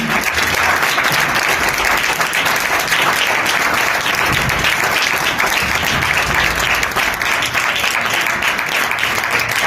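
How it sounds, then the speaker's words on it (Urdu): Loud, sustained applause from a large church congregation during a sermon, a steady wash of clapping that continues throughout. "یسوع کے لیے ذرا تالیاں بجائیں."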